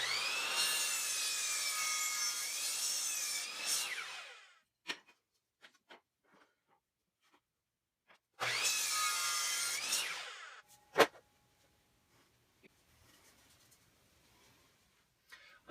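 Wooden boards for a clavanova mobile base are cut to length with a power saw, two loud whining cuts of about four and two seconds, each followed by quiet knocks and clatter as the pieces are handled.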